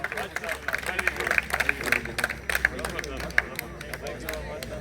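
An anniversary ceremony crowd claps in scattered, uneven bursts at moderate distance, sharp individual claps popping over a murmur of chatter and voices.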